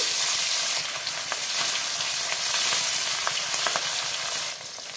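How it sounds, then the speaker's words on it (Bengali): Fish frying in hot mustard oil in a kadai, a steady close sizzle with occasional sharp pops and crackles over about five seconds, no talk. "তেলটা গরম হয়ে গেছে, মাছগুলো আমি ছেড়ে দেব।"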